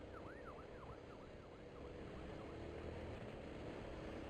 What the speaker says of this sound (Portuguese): Ainda mais esta ambulância.